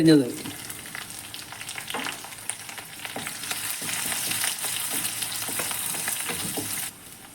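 Dried red chillies, a small piece of ginger and sliced green chillies fry in hot oil with curry leaves for a ladies finger dish, giving a continuous close sizzle broken by light stirring scrapes, with no voices, before cutting off near the end.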